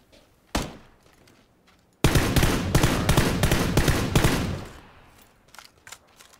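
Gunfire in PUBG on the Miramar desert map: one loud shot, then a dense rapid volley of cracks lasting about two seconds, fading into scattered faint shots.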